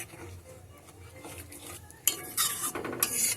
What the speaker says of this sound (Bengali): ডালটা দিয়ে সমস্ত মশলার সাথে ভালো করে মিশিয়ে দিতে হবে